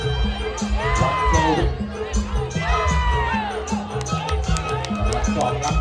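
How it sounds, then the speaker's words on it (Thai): A Muay Thai crowd in northeastern Thailand cheers for the red corner, loud and sustained, with rising whoops and shouts over a dense hubbub. Steady ringside drumming and music keep a beat beneath the cheering. "กองเชียร์จากฝ่ายแดง"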